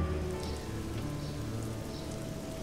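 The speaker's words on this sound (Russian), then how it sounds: "Дождь, правда, как-то немножко выглядит не совсем реалистично" Rain falls steadily in the video game The Black Mirror 2, a soft, even wash of drops on a surface, faint and continuous with no voices.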